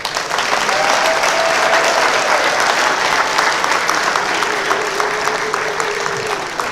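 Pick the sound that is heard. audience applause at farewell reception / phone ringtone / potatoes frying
audience applause at farewell reception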